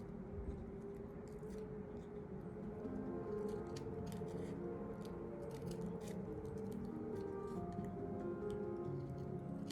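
Scissors snipping paper to shape daisy petals, a run of small, crisp, closely spaced cuts in an even rhythm, near and fairly quiet over soft background music, with no talking.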